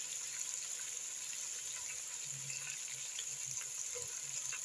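Onions and spices cooking in a pot with a splash of beef broth for pilau, giving a low, continuous bubbling sizzle with faint scattered pops and occasional stirring, steady and fairly quiet throughout.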